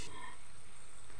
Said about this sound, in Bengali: চিলি চিকেনের টুকরোগুলো দিয়ে মশলার সঙ্গে ভেজে নিচ্ছি